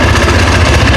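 A Yamaha NMAX scooter engine with a rebored cylinder runs steadily up close with a persistent mechanical rattle, a continuous loud low-pitched drone with rapid ticking.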